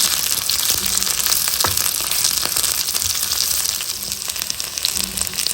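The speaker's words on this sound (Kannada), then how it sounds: "ಎಲ್ಲವನ್ನು ಚೆನ್ನಾಗಿ ಹುರ್ಕೋಬೇಕು ಈರುಳ್ಳಿ ಸ್ವಲ್ಪ ಸಾಫ್ಟ್ ಆಗಿದೆ" Onion and tamarind fry in a pan for a pineapple dosa filling, giving a steady, close, loud sizzle with faint occasional scrapes of stirring throughout.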